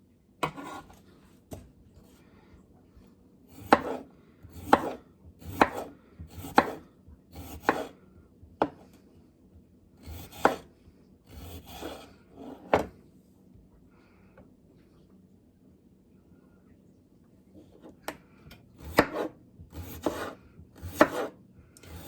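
A knife slices Yukon Gold potatoes about a quarter inch thick on a cutting board, sharp thuds in quick rhythmic bursts with pauses between, close and clear.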